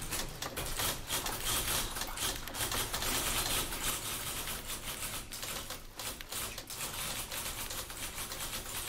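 Typewriter keys clatter in the video game The Beginner's Guide, a fast, continuous run of loud, close mechanical strikes with no talking over them.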